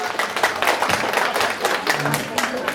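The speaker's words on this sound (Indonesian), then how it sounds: "Tepuk tangan dulu dong untuk Dokter April" Seminar audience applauding a doctor after her talk, a dense wash of many hands clapping at moderate volume, with voices mixed in.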